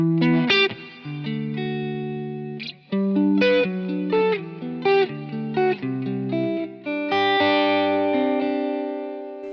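A clean electric guitar plays clear, ringing chords and single notes through a modeled Fender Super Reverb-style clean amp on a Helix, with a bright tone and a touch of shimmer, loud and up front.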